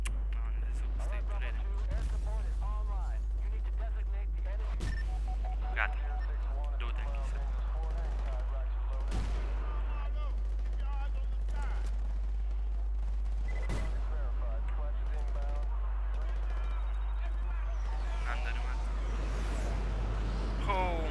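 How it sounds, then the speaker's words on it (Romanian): Explosions in a snow-themed video game come as repeated sharp blasts and gunfire-like bursts spaced several seconds apart over a constant low hum, with a player talking throughout. "A sa-i tai explozii aici."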